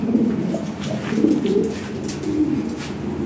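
Lahori pigeons coo close by in low, throaty, rolling phrases, several overlapping calls repeating without any talk.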